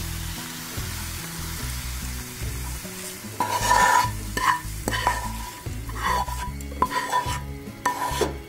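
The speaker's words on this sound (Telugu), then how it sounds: "ఉల్లిపాయ బాగా మరీ ఎక్కువ ఎర్రగా ఫ్రై అవ్వవసరం లేదు, ఇలా కొద్దిగా వేగితే చాలు." Onions fry in a pan with a soft, steady sizzle while a utensil stirs and scrapes them in short, repeated strokes.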